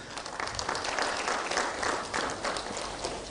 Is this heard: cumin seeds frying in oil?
no